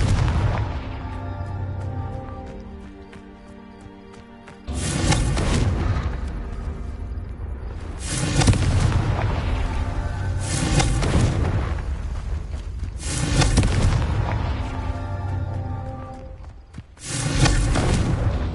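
Confringo fire spell explosions from the video game Hogwarts Legacy, a series of five loud booming blasts spaced a few seconds apart, each a sharp burst that rumbles and decays into a sustained roar.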